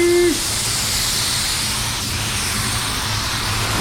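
A paint spray gun set to 31 psi lays down reduced HC clear coat with a continuous broad hiss that stays steady throughout, preceded by a brief tonal squeak at the start.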